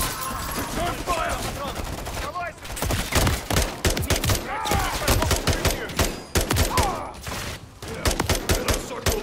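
A heavy firefight in Call of Duty Modern Warfare 3, with rapid close gunshots and bursts of automatic fire coming thick and fast throughout, mixed with shouted voices and combat noise.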